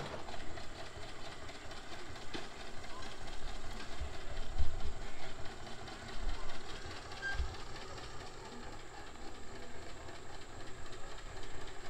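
A John Deere tractor drives past at a tractor cruise, its engine a steady low chugging drone at moderate distance with faint clatter, and no voices over it.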